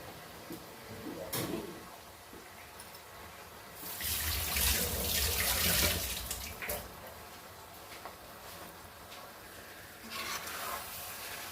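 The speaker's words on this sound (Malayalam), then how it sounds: "ഇത് കഴുകി വെള്ളം ഒഴിക്കണം" Water poured and running while raw prawns are washed for a coconut prawn theeyal, coming in a few splashing gushes, the longest in the middle, between quieter handling sounds.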